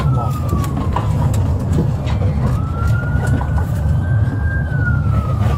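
A police siren slowly rises and falls over heavy, rumbling engine noise outside a Walmart, steady and fairly close throughout.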